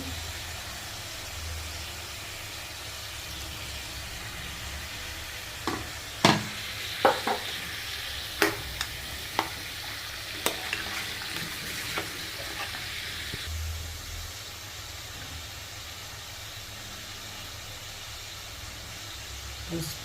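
Chopped onions sizzle and fry in a pan for a Telugu cauliflower, chana dal, potato and egg curry, with a steady hiss broken by a run of sharp clicks and scrapes from stirring through the middle.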